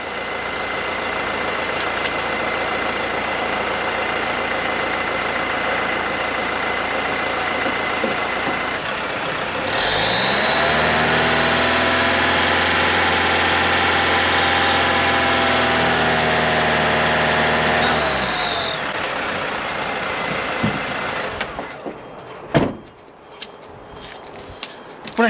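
A van engine idles steadily, then revs up and holds a high, strained whine for several seconds before dropping back toward idle, followed by a few clunks and knocks.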